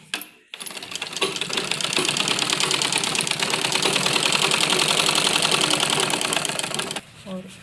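A sewing machine runs steadily for several seconds, stitching the pocket opening of a men's kurta, with a clattering needle rhythm that starts after a brief pause and stops near the end.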